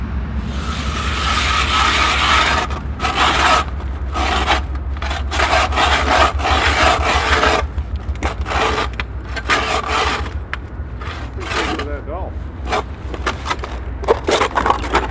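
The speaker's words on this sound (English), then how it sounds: "We're going to drill another hole." Steady rasping, grinding churn of a hand auger boring into early-season ice about 4 inches thick, continuous and close for the whole stretch, with a low rumble beneath and no talking.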